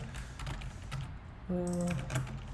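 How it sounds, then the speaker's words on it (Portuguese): Typing on a computer keyboard, steady light clicking keystrokes close by, with a brief tonal electronic beep partway through. "Então eu estou digitando aqui"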